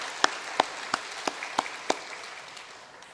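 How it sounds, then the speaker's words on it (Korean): Six or seven sharp, evenly spaced claps in a church service, fairly close and crisp, followed by a quiet room with no talk. "우리 고맙다는 마음으로 격려의 박수 주시겠습니다."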